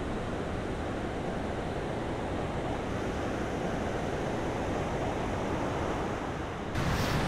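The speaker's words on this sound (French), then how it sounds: "les vagues déferlent le long de la promenade presque vide" Steady roar of ocean surf breaking along a seaside promenade near Lisbon, loud and continuous with no voices, a gust of wind rising near the end.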